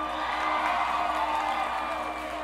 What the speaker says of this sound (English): can everybody please give a huge round of applause for Austin?